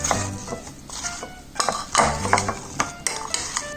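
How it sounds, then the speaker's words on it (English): A spoon stirs apple crisp filling of apples with lemon juice in a bowl, giving a series of clinks and scrapes in uneven bursts, close and fairly quiet. "And now stirring it to combine"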